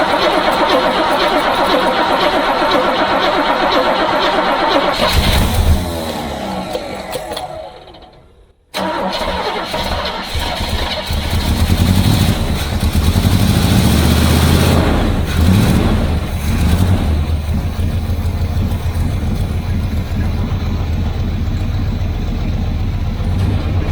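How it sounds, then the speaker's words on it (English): A Corvette engine fitted with a QuadraJet carburetor cranks, dips briefly to near silence, then roars to life and settles into a loud, steady idle close by. "I'm going to get the car and we'll see if it is going to fire up"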